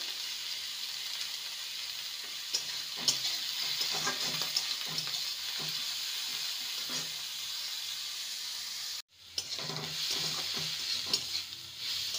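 Oats pasta with green chilli and salt is stirred in a hot pan, a continuous hissing sizzle with repeated scraping strokes, broken by a brief silent gap before the stirring resumes.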